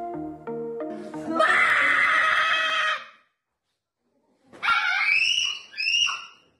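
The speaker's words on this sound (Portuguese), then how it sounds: "Ouvem-se gritos de uma criança de 10 anos." A ten-year-old autistic child with tactile hypersensitivity screams in long, shrill, loud bursts, with a couple of earlier cries, then a pause and two more sharp screams, heard alone.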